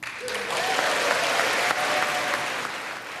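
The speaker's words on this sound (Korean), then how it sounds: "미국 의원들은 26번 기립박수를 쳤습니다" Sustained applause from US lawmakers giving a standing ovation during a joint session of Congress in 2023, a dense, steady roar of clapping hands filling the hall without pause.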